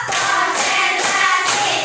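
Rhythmic classroom clapping pattern led by a teacher, with bursts of claps repeating at a steady beat, close and loud.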